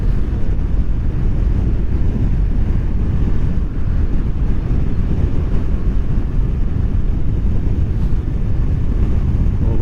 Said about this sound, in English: Bloody windy.